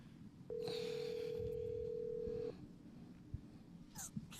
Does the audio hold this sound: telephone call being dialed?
yes